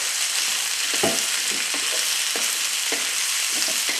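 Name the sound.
peppers frying with garlic and ginger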